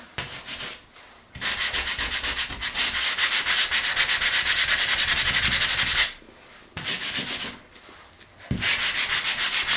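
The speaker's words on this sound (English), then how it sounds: "I just want to sand it down" Sheets of drywall are sanded by hand with 220-grit sandpaper during a bathroom renovation, giving steady, loud scratchy rubbing strokes in long runs broken by two short pauses, with no voices.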